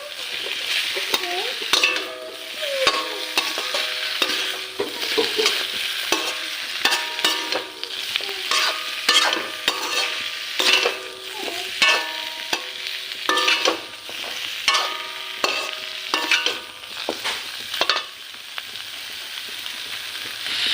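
Half a spoonful of cumin seeds fry in hot oil for a chicken dish, a crackly sizzle broken by repeated scraping stirs of a spoon against the pan, close and fairly loud, with no talking.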